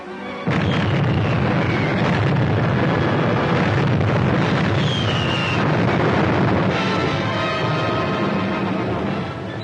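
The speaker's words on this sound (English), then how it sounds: "Those torpedoes sure put that cruiser out of action" Torpedo strikes on a naval cruiser erupt as a sustained, loud roar of explosions, with rumbling low booms and crackling bursts that continue for nearly ten seconds without any voices.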